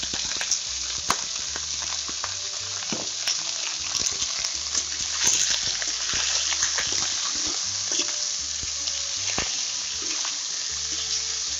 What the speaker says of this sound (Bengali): সব কিছু ভালোভাবে নেড়ে মিক্স করে নিচ্ছে